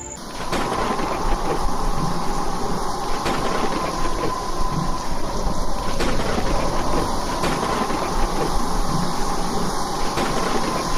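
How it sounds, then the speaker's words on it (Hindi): Loud, steady heavy rain from a cartoon-style thunderstorm fills the whole stretch, with a low rumble of thunder rolling underneath and no voices. "हे भगवान, आज तो कितना भयानक तूफान आया है।"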